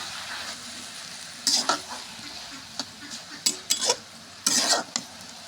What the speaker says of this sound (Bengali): স্বাদ মতো লবণ দিলাম, এখন নাড়াচাড়া দিব।